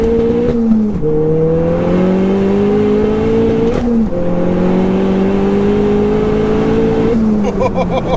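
A 2.3-litre, 507 bhp front-wheel-drive Ford Fiesta hatchback pulls hard at speed, its loud engine note climbing steadily between two quick gear shifts.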